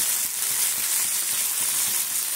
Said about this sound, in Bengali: তাহলে তিলটা এর সঙ্গে ভাজাও হয়ে যাবে